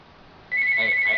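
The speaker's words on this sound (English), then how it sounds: "My phone is ringing." A phone ringing indoors, its steady electronic ring tone starting abruptly partway through and continuing loud and close to the end, over faint room noise.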